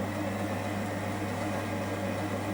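Kitchen robot cooking pepper and ricotta soup at speed 2 and 100 degrees, giving a steady, even motor hum with a low drone and broad whirring noise that holds unchanged throughout, with no talking.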